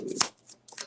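Angel cards shuffled for a tarot reading, heard as a quick, close riffle and flick of cards in two short bursts within a second, fairly soft and with no talking.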